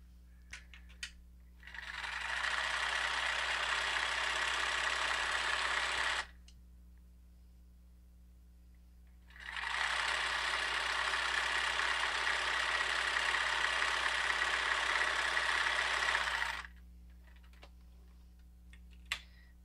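A domestic sewing machine stitches a flour sack towel prefold in two sustained runs of rapid, steady whirring, each several seconds long, with a quiet pause between them and no talking.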